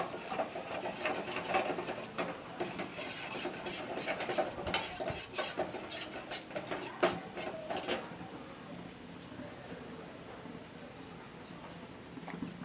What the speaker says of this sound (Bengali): একটু জল দিয়ে এটাকে গুলিয়ে নিলাম।